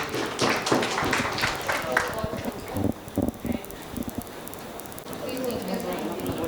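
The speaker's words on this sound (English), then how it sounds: "please, huge round of applause for the team" An audience applauds as a presentation team is called onto the stage at a faculty development event; steady clapping fills the first two seconds, then thins into scattered claps and room murmur.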